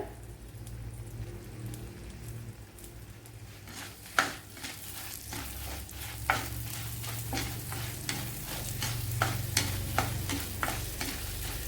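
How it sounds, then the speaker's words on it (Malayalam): Fenugreek, coriander seeds and dried red chillies are dry-roasted in a pan, giving a soft, steady crackle and rustle as they are stirred, with scattered brighter scrapes and pops of the spoon against the pan. "ഇതെല്ലാം കൂടെ ഒന്ന് മൂപ്പിച്ചെടുക്കണം ഇവിടെ മുളകും മല്ലിയൊക്കെ മൂത്ത് വന്നിട്ടുണ്ട്"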